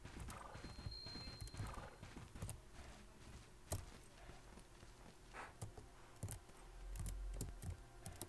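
Rapid clip-clop of a horse's hooves in the video game Bella Sara, with scattered clicks and thuds, steady and fairly close, no talking.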